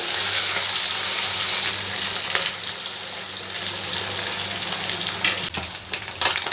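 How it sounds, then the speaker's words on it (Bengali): Small morola fish fry in hot oil with a loud, steady, close sizzle throughout, and a few brief clinks or stirring sounds toward the end. "এবার মাছগুলো সব আমি অল্প অল্প করে আগে ভেজে নেব।"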